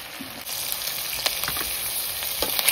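Potatoes stirred in a frying pan for a pork curry, with a steady close sizzle of hot oil and occasional scraping strokes of the spoon. No one speaks.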